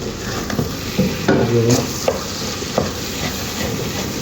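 Bitter gourd and radish stir-fry being stirred in a pan, a steady close sizzle with repeated scraping strokes of a spatula and occasional clanks against the metal.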